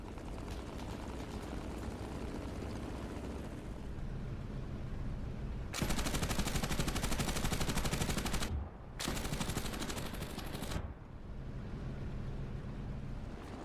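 Rapid sustained machine-gun bursts from aircraft strafing buildings during a bombing raid, two long dense rattling volleys separated by a brief gap, heard over a continuous engine-like roar.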